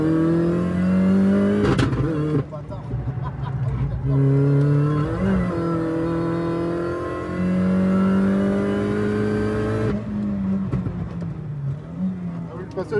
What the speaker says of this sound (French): C'est bon, la voiture est chaude. On va pouvoir commencer un petit peu à avoiner.